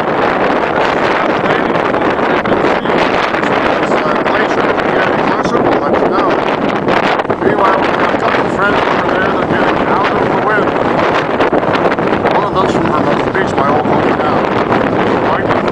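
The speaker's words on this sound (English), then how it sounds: "We're going to start down now to get out of the wind." Strong, constant wind roars across a mountain top near El Chalten in Patagonia, buffeting the microphone with a loud, unbroken rush that holds for the whole stretch.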